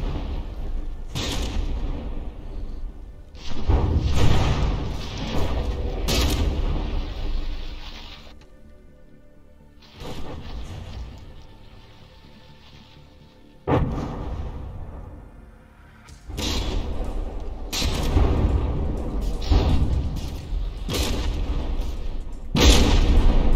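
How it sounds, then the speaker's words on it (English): Battleship guns firing in From the Depths: heavy booming salvos arrive in clusters, each with a long rumbling tail, and quieter pauses fall between the volleys. Loud and close, with no talking. "they're both moving away as they fire their guns at one another"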